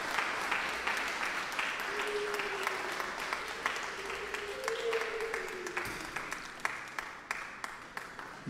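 Soft, scattered clapping from a church congregation at a Sabbath worship celebration of a woman's 100th birthday, with a few sharper individual claps and murmuring voices underneath.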